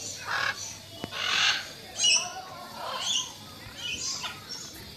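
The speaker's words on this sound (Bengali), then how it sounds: "এই পাখিগুলো অনেকটা নিচের দিকে নেমে এসেছে," Birds in a park aviary squawk in repeated harsh bursts, several calls spaced through the stretch, fairly close and loud with no talking.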